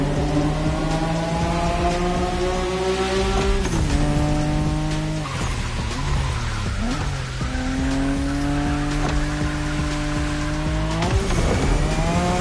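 A Nissan Skyline R32 drifts in The Crew Motorfest, its engine roaring loud and steady with shifting pitch as the tires squeal through long slides, with no talk.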